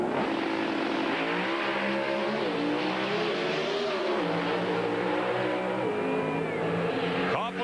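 A black Pontiac Pro Stock car at an NHRA drag race accelerates hard with a loud, continuous engine roar that climbs in pitch through the gears, with a commentator's voice faintly underneath.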